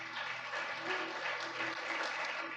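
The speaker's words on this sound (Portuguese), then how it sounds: "Vamos aplaudir ao Senhor." A church congregation applauds steadily through a Sunday morning service, the dense clapping sustained at an even level from start to finish with no talk over it.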